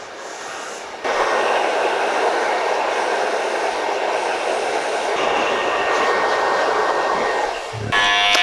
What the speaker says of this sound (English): I'm going to dry this hair